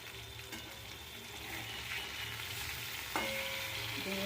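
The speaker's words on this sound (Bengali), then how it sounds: "ভেঙে যাচ্ছে, অল্প তেল দিয়ে ভাজছি" Food frying in a little oil in a wok, a steady soft sizzle with faint stirring scrapes, close and continuous with a brighter clatter near the end.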